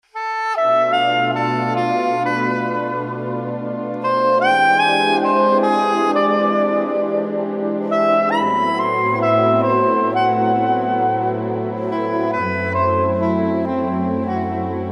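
A tune is played as a melody over a minor ii-V-i progression, clear sustained chords and a moving single-line tune, close and even, with no talking.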